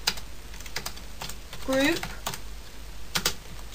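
Keys clatter on a computer keyboard while a command is entered at a command prompt, with short bursts of clicks around a man's speech.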